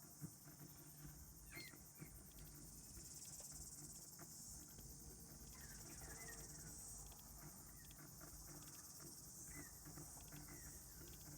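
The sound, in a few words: cicada buzzing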